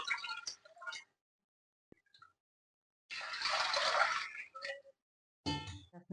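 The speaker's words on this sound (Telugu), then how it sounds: "ఒక కప్పు కొరలకి రెండు కప్పులు వాటర్ వేసుకోవాలి" Water poured onto foxtail millet in a pot, a close pour lasting about a second and a half, framed by brief clinks and handling noises.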